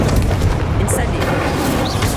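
The Incendio fire spell in Hogwarts Legacy gives off a loud, continuous fiery roar with a deep rumbling body, steady and dense throughout with no break.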